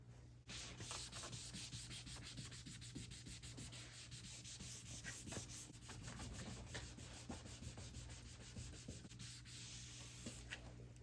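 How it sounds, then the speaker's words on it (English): A towel dampened with rubbing alcohol rubs across the door area of a 2009-2019 Ford Fiesta, giving a quiet, continuous scrubbing swish with repeated strokes and no voices. "Now you just use rubbing alcohol on a towel, and then I can wipe down the area that needs to be cleaned."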